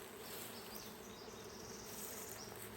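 Dense swarm of honeybees from a package being installed into a beehive, a steady close buzzing drone that holds evenly throughout with no voices.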